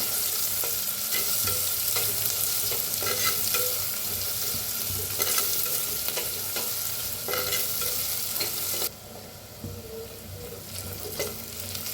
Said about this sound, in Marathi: आता टाकूया कांदा छान असं भाजून घेऊया